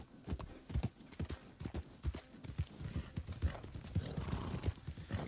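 A brindle horse's hooves clip-clop steadily in Red Dead Redemption 2, a close, continuous rhythmic beat of fast hoofsteps on the ground with no talk.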